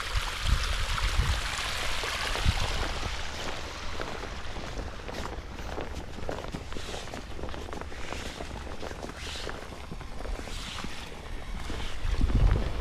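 An Oase Mud Drain 30000 pump draining a garden pond and drawing sediment from the bottom, producing a constant loud rushing, gushing water noise with a low rumble, heard up close with no talking.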